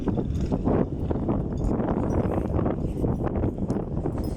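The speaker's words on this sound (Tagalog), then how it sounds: "Lakas na ng hangin." Loud, steady wind roars and buffets the microphone without a break, a continuous rumbling rush with no voices, outdoors beside a milkfish pond with water lilies.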